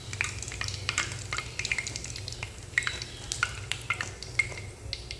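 Chickpea and lentil fritters fry in a pan of oil while a spatula turns them, giving a faint, steady sizzle broken by soft scraping and clinking strokes, with no talking.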